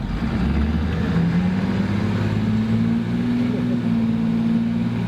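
An International truck with a 195-horsepower engine pulls away from a stop, its low diesel drone climbing in pitch as it accelerates, then holding a steady loud rumble heard from inside the cab.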